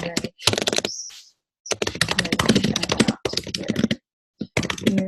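Quick bursts of typing on a computer keyboard while a blog post is written, clicking close and crisp with a few short pauses between runs of keys.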